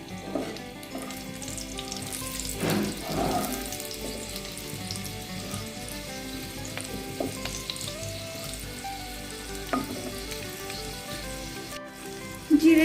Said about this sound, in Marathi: जिरे छान आपल्याला तडतडू द्यायचे आहे